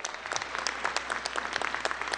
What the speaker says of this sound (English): Another big round of applause for everybody that's part of our leadership.